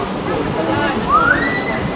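Alitap Falls pours in a steady, close wash of rushing water, with voices talking over the roar throughout.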